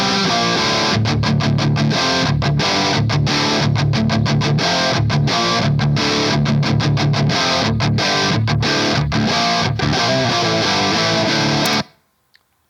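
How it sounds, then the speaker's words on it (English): Distorted electric guitar through a Two Notes Wall of Sound rig with a short room reverb, played as a continuous rhythmic riff of choppy stops and starts, loud and close, ending abruptly with a brief tail near the end. "So you can just hear a little bit of reverb on there."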